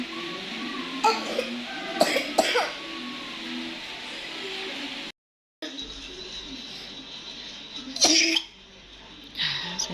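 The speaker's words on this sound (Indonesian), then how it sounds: "Nih, kencang banget guys batuknya." A child coughs hard in a few harsh bursts spread through the stretch, some strained and raspy, with indoor room noise and short quiet gaps between them.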